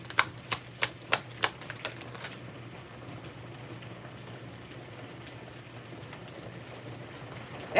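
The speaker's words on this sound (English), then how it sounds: "that rain is not playing, y'all." Heavy rain falls as a steady, broad hiss throughout, preceded by a short run of sharp rhythmic taps at the start.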